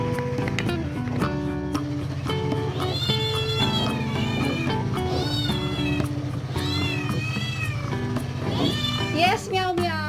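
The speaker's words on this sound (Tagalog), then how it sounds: "Yes, meow meow." A cat meows repeatedly in a kitchen while mango pudding is being made, the high pleading calls standing out clearly over steady background noise and a voice speaking throughout.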